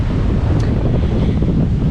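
Steady wind roaring across a microphone aboard a sailboat on the open ocean between Madeira and the Canary Islands, with waves rushing beneath in a continuous loud wash and no talk.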